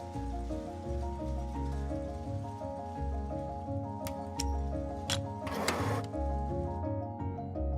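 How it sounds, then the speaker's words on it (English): A yarn winding machine in a denim spinning mill runs with a steady mechanical hum and regular rhythmic clatter, with occasional sharp clicks and a brief hissing burst of air near the end. "The machine also monitors the moment when the bobbin reaches the end and needs to be glued to the next bobbin."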